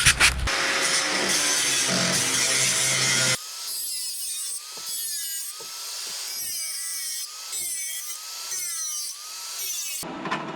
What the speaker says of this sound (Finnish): siitäpä me ruvetaan sitä sitten sahailemaan.